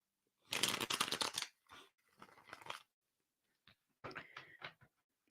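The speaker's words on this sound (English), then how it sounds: "All right, one more shuffle." A deck of playing cards being shuffled: a loud, dense riffle burst followed by softer flicking and a second crisp riffle, close by and with no voices.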